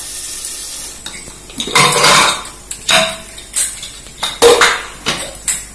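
A metal lid clanks onto a cooking pan, followed by several sharp close metallic knocks and rattles of cookware, loud and alone.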